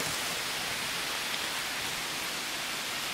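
Rain falls outdoors under a tree as a steady, unbroken broadband hiss, loud and even throughout with no other sounds standing out.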